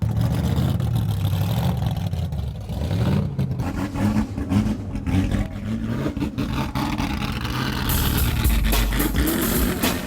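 Indy race car engines roar and rev at a Detroit River event, a loud continuous mechanical growl rising and falling in pitch with a sharp surge near the end.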